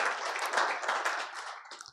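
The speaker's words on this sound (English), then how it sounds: "Another round of applause for him" Applause from an audience at a business report launch on Nigerian frontline health facilities, a brief burst of clapping that swells and then tapers off to quiet.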